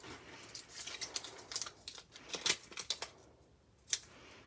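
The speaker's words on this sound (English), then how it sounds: "I'm going to flip it to cut it." Scissors snip through vellum paper in a series of crisp, quiet cuts, bunched closely at first, then spaced out into a few sharper snips, heard alone at close range.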